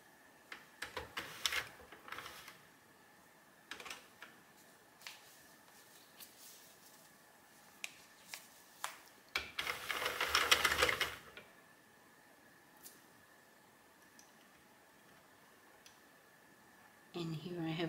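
Sentro knitting machine knitting rows of waste yarn, quiet clacking ticks in irregular bursts, with a denser rattling run in the middle and a louder stretch at the end.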